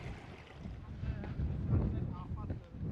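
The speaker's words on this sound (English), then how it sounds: "it's very windy today" Gusty wind buffets the microphone in low, uneven rumbles on the Pen y Fan summit path in the Brecon Beacons, with faint voices in the background.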